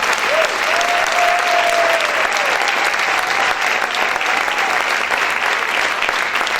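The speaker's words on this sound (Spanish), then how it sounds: "Aplaude fuerte al Señor." Loud, sustained applause from a church congregation during a Spanish-language service, dense clapping throughout with a voice calling out briefly over it near the start.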